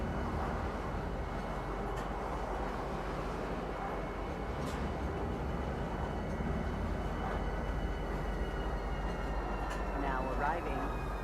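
A train pulling into Tisa Spaceport in the video game Star Citizen gives a steady, loud rolling rumble and hum for the whole stretch, with a faint voice underneath.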